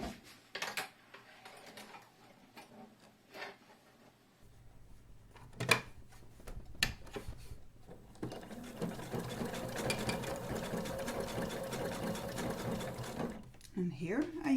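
A sewing machine runs a long continuous stitch on a shoulder bag after a few short bursts and clicks, with someone speaking quietly early on.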